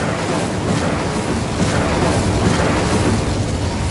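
An Incendio fire spell cast in the video game Hogwarts Legacy: a dense, roaring burst of flame that holds steady and loud for about four seconds.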